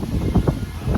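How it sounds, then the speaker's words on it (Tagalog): Strong wind gusting across a lake produces a low, rumbling buffet against the microphone, swelling in a few brief surges over a steady roar. "Grabe, guys, ang lakas ng hangin."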